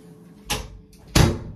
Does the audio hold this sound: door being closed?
yes